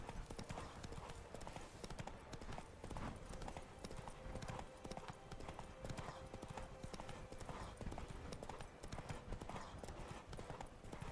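Roach the horse gallops in The Witcher 3: Blood and Wine, a steady, fast stream of hoofbeats that keeps going at an even, fairly close level throughout.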